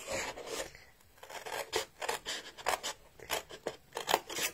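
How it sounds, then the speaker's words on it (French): Scissors cut through paper during a craft session, a string of crisp, close snipping strokes in an irregular rhythm, quiet and with no one talking over them. "on peut le faire au coupe-papier ou avec les ciseaux"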